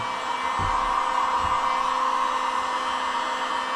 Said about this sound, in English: they're really forgiving with this heat gun